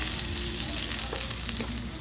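Meat frying in a pan while pansit is being cooked, a loud continuous sizzle with a low hum underneath and no pauses, close to the pan and without talk.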